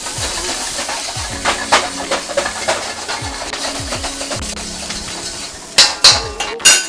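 Garlic, ginger and green onion whites sizzling in a wok, with a faint steady fry under repeated clanks and scrapes of a metal utensil tossing the aromatics, louder knocks near the end.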